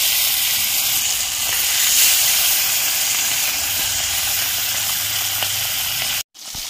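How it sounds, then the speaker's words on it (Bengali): A continuous, loud sizzling hiss of bata fish frying in hot oil, even and unbroken for several seconds before stopping abruptly. "আরো দুটো আমি ভেজে নিচ্ছি"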